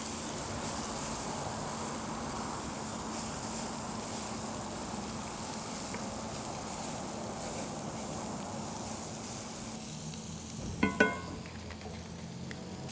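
Thinly sliced yellow onion sizzles in bacon grease in a skillet, a steady close crackling hiss throughout, with a brief scrape or clink near the end.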